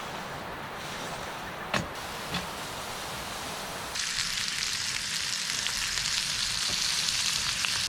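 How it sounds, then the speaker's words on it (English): Smokehouse barbecue pork bacon sizzles steadily in a lightly oiled pan at a riverside island campsite, a soft frying hiss that swells into a loud, dense crackle partway through, with a couple of faint knocks early on. "Throw the pan on, tad bit of oil. Pork smokehouse barbecue bacon."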